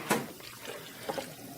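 Water and sugar mixture poured into a sorbet machine while making mango sorbet, a faint liquid splash and trickle with two brief louder pours, quiet and close with no talk.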